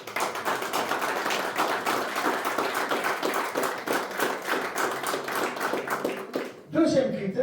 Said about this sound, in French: et ça s'applaudit